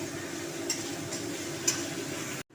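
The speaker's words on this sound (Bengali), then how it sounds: "জল দিয়ে এবার মশলাটা একটু কষিয়ে নেব।" Cumin and coriander powder masala with a little water sizzles softly in a pan, a faint steady frying hiss with a couple of light stirring clinks, no voices.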